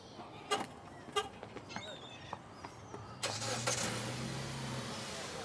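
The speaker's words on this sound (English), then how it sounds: "So this car has remote start as well." A car engine starts by remote start after some scattered clicks and thumps, then settles into a steady low idle that is fairly quiet and close.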